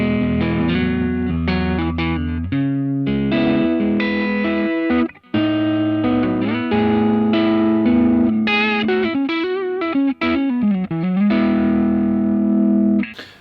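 An electric guitar played through the Line 6 Helix Vento amp model, a British Marshall-style mid-pushed tone, rings out distorted chords and fast lead runs, loud and close with no talking.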